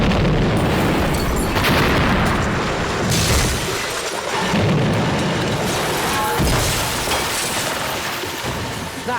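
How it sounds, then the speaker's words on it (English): An SC-1000 bomb detonating on a terraced street of houses, a huge deep blast followed by a long rumbling roar of debris and collapse, loud and sustained throughout. "Our third and biggest bomb was the SC-1000."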